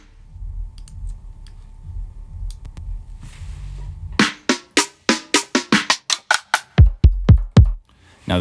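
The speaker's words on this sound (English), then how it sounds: "Let's go to some rim clicks. That one's good. Let's just add a couple in a row. Maybe some snares." Rim click and snare drum samples triggered in Ableton: a rapid run of sharp, dry clicks followed by several punchy snare hits in quick succession, loud and close, after a quiet low hum, with no voices.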